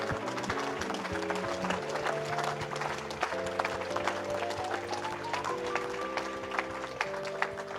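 A church congregation applauds for Jesus in continuous loud clapping, with music playing beneath and voices mixed in throughout.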